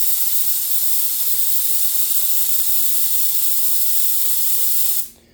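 An Inokraft spray gun set to 28 psi hisses in one steady, loud burst of air for about five seconds, then cuts off sharply at the release of the trigger.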